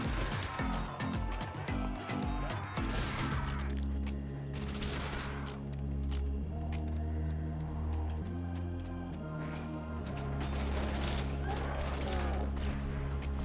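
Thompson submachine gun fire in a Call of Duty Zombies round, bursts of shots over a dense, busy game soundscape with heavy low rumble throughout.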